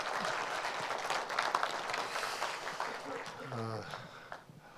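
Applause from an audience at a Korean book launch event fills the room steadily for several seconds, with a voice briefly speaking over it near the end.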